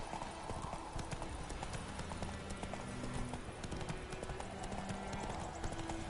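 Hooves of a horse in The Witcher 3, a continuous rhythmic clip-clop at moderate pace, close and steady, with low tonal sounds and faint voice traces beneath.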